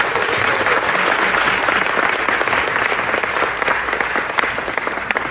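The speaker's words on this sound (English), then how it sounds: "Please give them another big round of applause." An audience at an Indian classical music concert in Atlanta claps in loud, dense, sustained applause that fills the whole stretch without pause.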